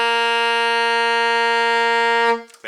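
An alto saxophone holds a single sustained G for about two seconds, bright and close, then cuts off with a brief breath noise after.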